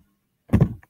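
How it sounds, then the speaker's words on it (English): A door is pushed open by very strong wind, making a single short, heavy thump and rattle close by, followed by a faint click, with silence before it. "It's opening my door."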